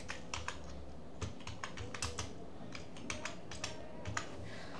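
Keys clatter on a computer keyboard in irregular short bursts, fairly quiet and close, while text is typed into a type tool in Adobe Illustrator; no voices.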